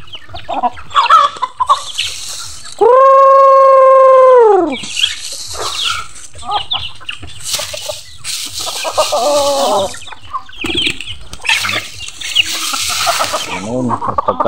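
Backyard pet chickens and roosters at feeding time cluck and squabble, with one loud, sustained crow standing out near the start, and people talking in the background.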